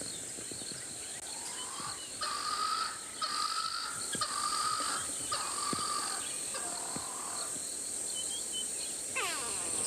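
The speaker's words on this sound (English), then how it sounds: "this isn't alarm calling happening, this is just normal calling" Wild birds call at sunset in the bush where impalas graze, sounding as repeated tonal whistles and chirps. Steady insect trilling runs underneath, and a brief burst of rapid chirps comes near the end.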